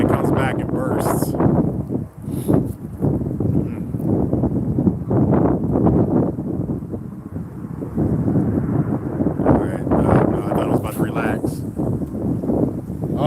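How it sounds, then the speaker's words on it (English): Gusty wind batters the microphone outdoors at a riverbank while catfishing, a heavy rumbling roar that swells and eases across the whole stretch, loud and close, with brief faint sounds above it. "The wind chills out and then it comes back and bursts."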